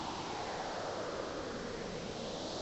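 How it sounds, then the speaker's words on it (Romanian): Rough wind gusting steadily around a galloping rider in a fantasy radio drama, a dense continuous rushing hiss that fills the whole stretch at moderate level without breaks or voices. "vântul șuiera printre pletele călărețului"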